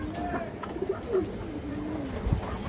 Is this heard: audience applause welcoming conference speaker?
no